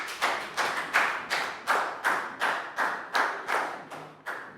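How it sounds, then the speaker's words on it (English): A class of children gives a round of applause, about a dozen even bursts of clapping in a steady rhythm, close and fairly loud, with no talk over it. "very good. Round of applause."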